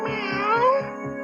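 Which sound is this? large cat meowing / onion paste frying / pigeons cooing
large cat meowing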